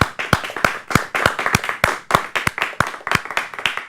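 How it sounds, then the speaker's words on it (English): A small audience at a Toastmasters public speaking event claps in a round of applause, with sharp, uneven hand claps close by and no voices over them. "Please, let's give them a round of applause."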